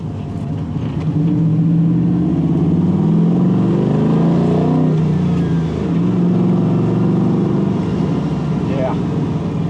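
A 1969 Chevrolet C10 pickup with an LS3 V8 and six-speed manual drives on a road test, its engine droning loud and near with a rise in revs and a shift midway, while people talk over it.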